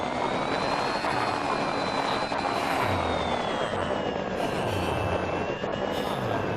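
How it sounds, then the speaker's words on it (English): A helicopter blade whirs steadily at idle in the Immersive Vehicles Minecraft mod, a loud, continuous mechanical drone with a faint high whine that holds level throughout, with no speech. "make sure to shut the helicopter blade off before you dismount"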